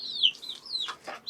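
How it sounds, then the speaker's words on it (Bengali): Native desi chickens on a small home farm give a few short, high clucks and chirps, close and fairly soft, in an otherwise quiet yard. "তো আমি এখানে দেশি মুরগি পালন করছি।"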